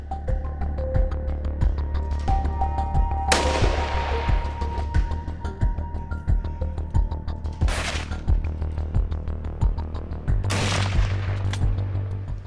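Hunters fire guns during an organized hunting program in Canada: three loud booming shots spaced several seconds apart, each with a trailing echo, over a steady low rumble.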